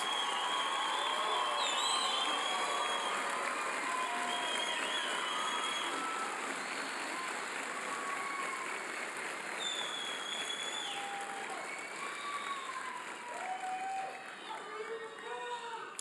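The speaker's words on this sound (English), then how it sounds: "If I could have one large round of applause for all the new officers and deputies." A crowd applauds new officers and deputies at a police academy graduation, a broad, sustained clapping that stays steady before thinning slightly near the end, with faint cheers and whistles mixed in.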